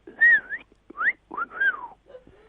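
A person whistles in imitation of a cockatiel's call, giving a few rising and falling chirpy notes with brief pauses between them.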